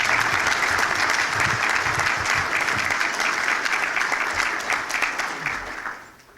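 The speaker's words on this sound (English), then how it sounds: "Let's have a round of applause for all of them." Breakfast attendees at a chamber of commerce event clap loudly and steadily for several seconds, a dense, full-room applause that tapers off at the end.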